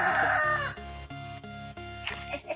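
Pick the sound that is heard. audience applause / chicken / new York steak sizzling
chicken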